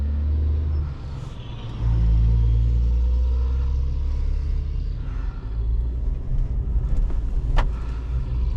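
2024 Hyundai Kona SEL with a CVT being driven: a steady low engine drone and road rumble inside the cabin, rising in a brief surge with a step change near the middle, no talk.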